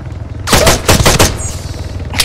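Rapid automatic gunfire in a military video game: a loud, close burst of several overlapping shots within about a second, followed by a brief fading tail and a quieter shot at the end.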